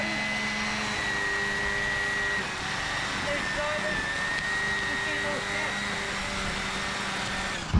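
A string trimmer runs steadily while edging a lawn vertically, its whine constant and fairly close, with voices talking over it throughout.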